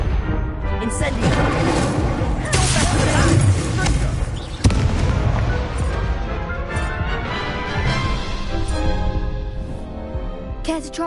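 Incendio fire spells cast in the wizarding game Hogwarts Legacy during a duel, with loud bursts and crackling blasts layered over dense combat effects and music, a sharp impact near the midpoint.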